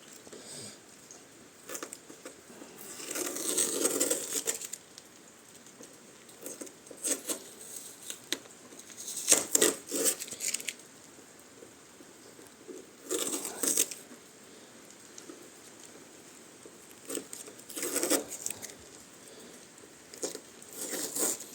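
Adhesive tape is peeled off fresh matte black paint in several separate ripping bursts, each a crackly tearing sound, with quiet gaps between them.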